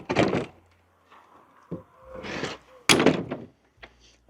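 A door scrapes and bumps against bricks laid too high on a DIY brick patio: three rough, broadband bursts with a short knock between them, close and fairly loud, with no talking.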